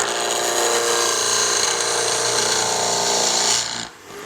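A light facing cut on the end of a spinning wooden knob or handle on a wood lathe: a steady, loud, close scraping whir with a dense buzzing texture, running evenly for several seconds before tapering off sharply near the end.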